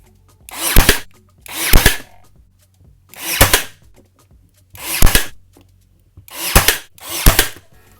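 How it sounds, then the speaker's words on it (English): Pneumatic nailer firing into a plywood seat on a barstool frame, six sharp bursts spread over about eight seconds, close and loud with quiet gaps between shots. "take the plywood and just place it on top and nail it down"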